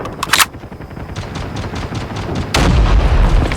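Gunfire in the mobile shooter Call of Duty Mobile battle royale, with a few sharp shots early on and then a loud sustained booming blast near the end over constant game noise.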